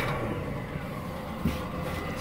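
A carbureted four-stroke boat engine that is already warm starts back up and settles into a steady, rough idle, heard close and continuous with a brief bump partway through.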